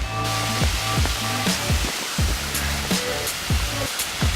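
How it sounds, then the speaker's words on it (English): Rushing water of a waterfall heard on a forest trail: a steady, dense roar that runs unbroken through the whole stretch, with some tonal sounds sliding over it and no voices. "It sounds like rushing water?"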